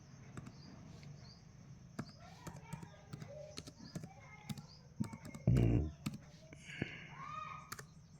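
Sparse, irregular keystroke clicks from a computer keyboard while someone writes code, soft and close, with one louder thump midway.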